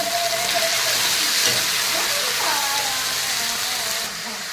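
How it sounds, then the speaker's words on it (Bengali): Greens fry in a hot pan with a steady, bright sizzle and hiss that eases off slightly near the end. "আমি এর ভিতরে দিয়ে দেবো এখন শাকগুলো, আমারটা ভাজা হয়ে গেছে।"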